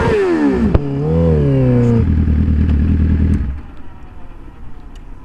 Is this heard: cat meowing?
no